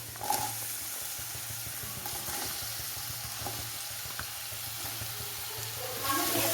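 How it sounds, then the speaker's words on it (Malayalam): Sliced onions frying in a pan with ginger, a steady close sizzle with light crackling throughout that grows slightly louder near the end, and no talking. "ഇനി നമുക്ക് സവോള ഇട്ട് കൊടുക്കാം"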